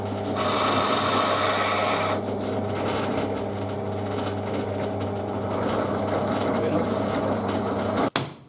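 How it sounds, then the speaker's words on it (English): A countersink bit cuts into the underside of a metal part from a Record No3 vice being restored, giving a close, loud grinding whir that shifts in tone midway and ends with a sharp knock. "What I want to do now is countersink the underside just a little bit, just to take the head."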